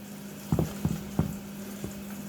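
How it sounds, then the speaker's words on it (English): Water warms in a pot for mixing bee feed: a steady low hum runs throughout while a few soft bubbling pops rise at uneven intervals. "warming up some water right here in the back here."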